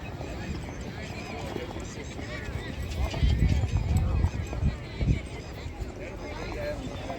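Horses' hooves clip-clop at a Kutch horse race in Bhuj, India, a dense rolling patter that swells loudest midway, with an occasional whinny and a commentator talking over it throughout.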